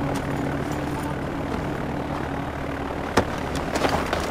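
A plane takes off in the video game Far Cry 4, its propeller engine droning steadily and loudly with a broad rushing roar, a brief sharp knock near the end.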